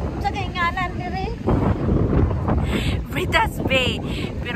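Strong wind buffets the microphone on a beach at Britas Bay, a steady roaring rush throughout with voices talking and shouting over it.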